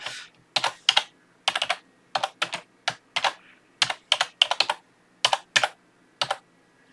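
Rapid bursts of keystrokes on a computer keyboard, short clustered runs of crisp clicks separated by brief pauses, close and clear with no voices.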